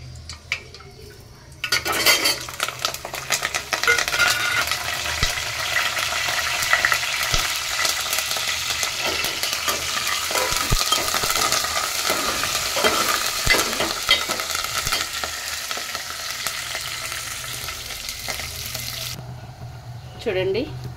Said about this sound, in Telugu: తాలింపు దినుసులు, కరివేపాకు, ఆనియన్ అయితే వేసుకుంటున్నాను.